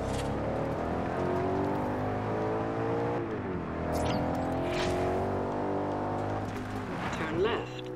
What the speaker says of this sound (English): I absolutely love the way this car sounds.